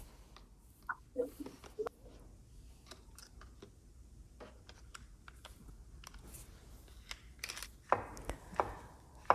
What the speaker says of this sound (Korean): 양송이 버섯을 약간 도톰하게 채 썰어 줍니다.